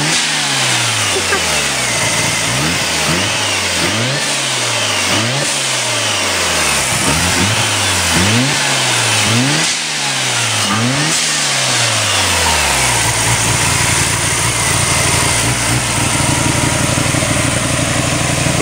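An engine revs in a steady series of sharp blips, each rising and dropping back about once a second, then settles into a loud rough idle; the engine pops on the trailing coil and runs close and dominant.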